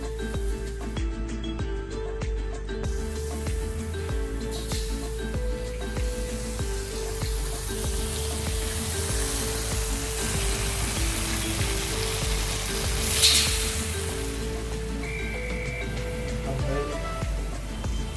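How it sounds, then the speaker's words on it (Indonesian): Coconut milk heating in a pan gives a steady soft sizzle and bubbling, close and continuous, with faint kitchen clatter and a brief louder hiss partway through. "Yang pertama kali kita proses adalah kita harus manasin santannya dulu."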